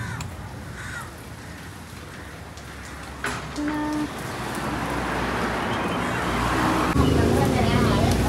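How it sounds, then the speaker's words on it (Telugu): Rain falling steadily on a vehicle stopped in the middle of a road in Goa, a hissing wash that grows louder, with passing traffic and people talking nearby. "వర్షం పడుతుంది మిడిల్లో ఆగిపోయాం"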